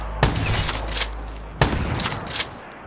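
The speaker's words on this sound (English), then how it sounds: "I'm gonna have to shoot you." Gunshots in Black Ops 3 Zombies: a few sharp, loud single shots about a second apart, each followed by brief crackling tails, with no voices.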